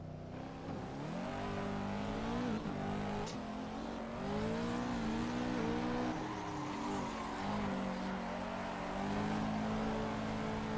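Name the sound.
car engine while drifting in video game Assetto Corsa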